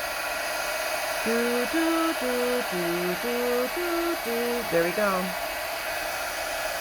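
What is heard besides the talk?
Milwaukee heat gun used for embossing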